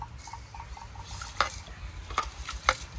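Rice is rubbed and stirred by hand in water, giving soft wet swishing and gritty scraping with a few sharper clinks against the pot, close and fairly quiet with no talking.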